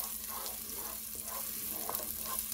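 Onions and garlic frying over medium heat for homemade pizza sauce, a steady close sizzle with faint scraping, a low constant hum running underneath throughout.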